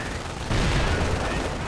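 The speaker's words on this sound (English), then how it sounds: "British troops getting hit by mortar fire and taking heavy losses." Mortar fire landing on British troops in a war video game, a dense rumbling barrage of blasts and gunfire that swells midway, mixed with a commentator's voice.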